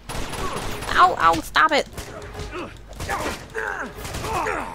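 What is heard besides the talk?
gunfire in Uncharted 2 video game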